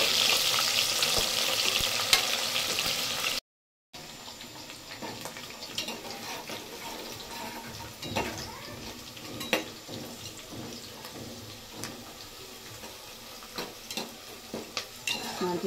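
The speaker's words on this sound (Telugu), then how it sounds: "దూరగా ఫ్రై చేసుకుందాము." A pan frying for chicken harees gives a continuous hissing sizzle with scattered clinks and scrapes of a utensil against the pan, briefly cutting out before resuming.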